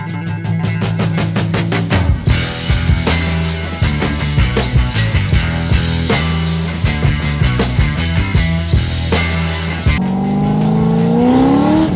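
A car engine runs loud and close, with a string of sharp revs, then a long rising rev near the end.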